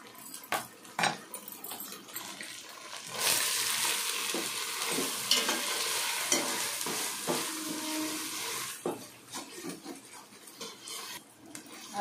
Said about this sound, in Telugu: అల్లం తెల్లగడ్డ పేస్ట్ బాగా వేగాలండి